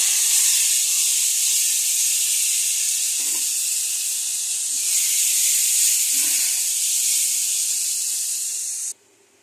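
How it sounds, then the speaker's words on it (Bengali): A spice mixture with cashew, white sesame and yogurt sautéing in a pan, giving a loud, continuous close hiss of sizzling with faint stirring knocks, which cuts off abruptly at the end. "মশলাটা এখন কষাচ্ছি।"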